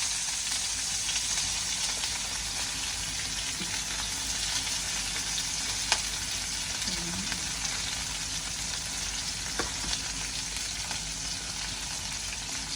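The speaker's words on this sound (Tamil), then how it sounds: "கருவேப்பிலை ரம்பை போட்டு தாளித்து விடுவேன்" Onion, green chili, curry leaves and rampe fry in hot oil in a home kitchen, giving a steady, even sizzle throughout with faint stirring clicks over the continuous hiss.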